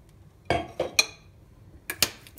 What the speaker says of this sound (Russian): И накрыть крышкой.